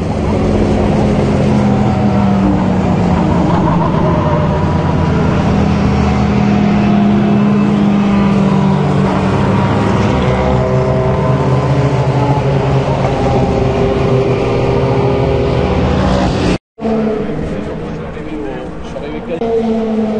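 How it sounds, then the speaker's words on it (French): Ferrari GT3 race cars during a Le Mans 24 Hours practice session, engines roaring loudly and continuously as they pass close by, with a person talking over them. "il est pas impressionnant le bruit des Ferrari GT3, hein, vraiment"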